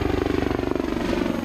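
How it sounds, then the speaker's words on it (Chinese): Army Black Hawk and Apache attack helicopters fly an assault drill near a harbour, their rotors producing a rapid, even thudding pulse with a constant engine whine, moderately close. "两架陆军航特部的黑鹰直升机以及两架阿帕奇攻击直升机进行突击演练"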